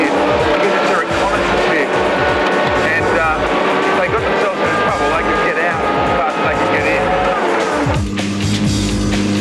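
A heavy Ferret armoured car with no power steering grinds over rough terrain, its engine roaring loud and continuous with rattling and clanking throughout; a voice may be heard over it.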